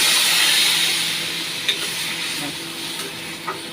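Water poured into frying spices in a pan sets off a loud, steady sizzle and hiss that slowly eases, broken by a couple of faint utensil taps, with no talking.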